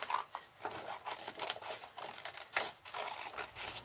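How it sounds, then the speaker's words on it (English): Scissors snip and rasp through paper while cutting curvy lines for Gelli plate printing masks, a quiet, close, irregular series of short strokes with no one talking. "I'm just going to cut some curvy lines"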